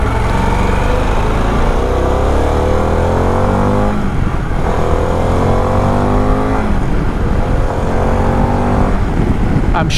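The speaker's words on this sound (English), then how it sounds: "this bike could sound quite good. Doesn't sound too bad the way it is" A 2022 Harley-Davidson Pan America Special motorcycle engine drones loudly while riding, its pitch rising and dropping through several gear changes, with steady wind rush over the rider.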